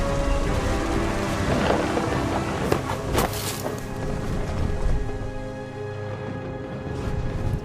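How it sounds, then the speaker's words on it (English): Rain and rumbling thunder in the video game What Remains of Edith Finch, a steady dense downpour with low rolling thunder and a couple of sharper cracks, loud and enveloping. "The thunder sounded much too close and full of angry power."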